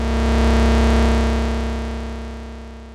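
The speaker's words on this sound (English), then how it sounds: "this is more of a bass pad sound" A sustained synthesizer bass pad holds one deep, smooth tone that swells gently and then fades slightly toward the end.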